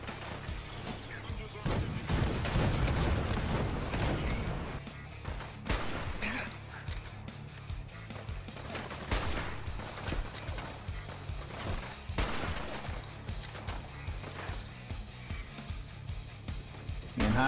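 Loud rifle gunshots in a video game crack out in irregular bursts over a noisy background, with someone talking between the shots.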